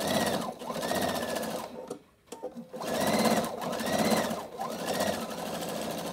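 A sewing machine stitches a rib seam to close the opening of a fabric face mask, running in steady bursts of loud whirring with a brief pause midway.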